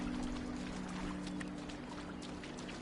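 A character wades through shallow water in The Talos Principle II, a soft continuous swishing and splashing over a steady low ambient hum. It is faint and even throughout, with no voices.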